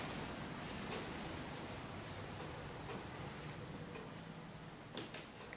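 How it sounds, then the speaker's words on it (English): Steady rain on a rainy day in Milan's Porta Venezia district, a constant soft wash of drops with occasional brighter patters, fairly quiet and continuous with no voices. "Unfortunately, it's a pretty rainy day in Milan."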